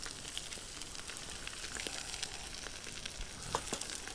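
Eggs scrambled in a frying pan at a campsite, a soft continuous sizzle with occasional light clicks and scrapes from stirring.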